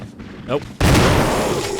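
In the 2002 Resident Evil remake, a brief murmur of game sound is cut off by one sudden, loud in-game gunshot blast that rings out and decays into a sustained echoing roar.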